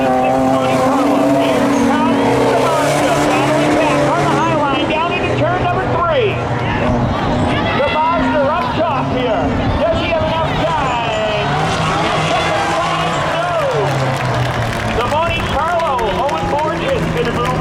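Race cars on the Seekonk Speedway oval, a Mazda battling on the high line into turn three, engines roaring and wailing in overlapping passes with rising and falling pitch, loud and continuous, announcer talking over the noise.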